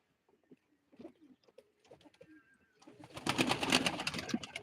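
Pigeons at a live pigeon auction give soft, intermittent coos and short calls close by, followed by a louder, denser burst of birds and bustle with voices in the background.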